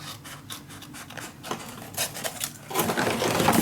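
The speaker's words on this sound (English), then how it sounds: "Now I'm going to cut the corners." Scissors snip the corners off scrapbook paper close up, a run of short crisp cuts and rubbing paper sounds that grow busier toward the end, with no talking.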